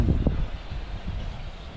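Strong wind buffets the microphone at the Marilaque campsite, a steady low roaring rush with gusty swells that persists for under two seconds, with no talking.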